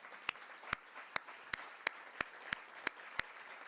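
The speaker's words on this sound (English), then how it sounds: "Can we do another round of applause?" Audience applause at a gathering honoring students, heard as a quiet, sparse run of about ten individual claps spaced evenly, with faint room noise between them.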